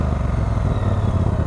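A motorcycle engine idles and ticks over through the exhaust, a close, steady, throbbing burble with a rapid pulse and no talk, lasting a second and a half.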